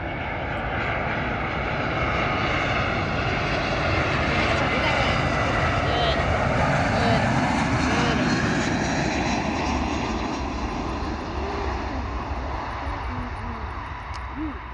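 Spirit Airlines passenger jet at BWI Airport, its engines giving a loud steady roar that swells slightly and then eases as it passes, with faint talking underneath.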